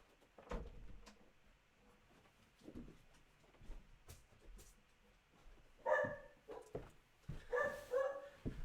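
Dog barking as it is let out through a door, a few sharp close barks and whimpers in the latter part, preceded by quieter thumps and door or cupboard knocks.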